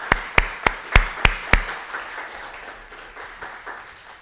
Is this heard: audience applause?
yes